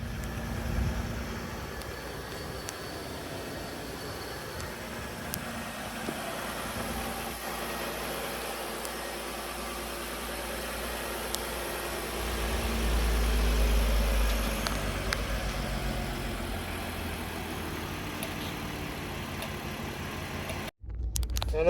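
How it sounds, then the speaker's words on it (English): A VW MK5 R32 idles steadily with a low engine drone, its loose skid plate rattling faintly underneath, a continuous close hum that swells slightly midway and cuts off near the end. "holy crap, this skid plate rattles. It's like hitting the oil pan or something"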